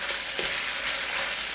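Spareribs in black bean sauce sizzle steadily as they are stir-fried over high heat, a dense close-up crackle with a few soft scrapes of the utensil and no talking.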